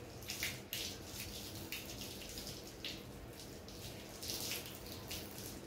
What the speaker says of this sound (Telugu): తొందర పోయే ట్యాప్ దగ్గర కడుక్కొని వస్తుంది.